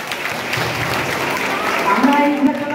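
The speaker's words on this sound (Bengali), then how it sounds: "তো এই তিনজন স্যারের জন্য একটু হাততালি হল।" Students and staff at a school quiz competition clap steadily for three teachers, a dense, moderately loud patter mixed with crowd murmur and a voice speaking over it toward the end.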